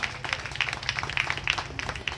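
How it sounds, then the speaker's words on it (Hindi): Guests at a Shiv Durga temple ceremony honouring Kanwariyas are welcomed with applause, a quiet, fairly distant patter of many hands clapping steadily. "तालियों के साथ स्वागत किया जाए।"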